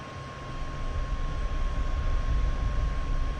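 An aircraft in a flight combat game rolls down a runway for takeoff, its engine producing a steady, loud broadband roar that swells slightly and holds as it builds speed, with no talking over it.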